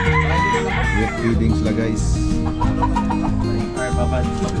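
Gamefowl chickens at feeding time in Cebu cluck and crow in a dense, continuous chorus close by, with people talking over the birds throughout.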